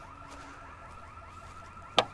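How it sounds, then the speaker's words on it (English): A church alarm sounding outdoors by a pond, a steady repeating electronic wail with a regular pulsing sweep, moderately distant, ending in a sharp close knock. "the church alarm decided to start going off"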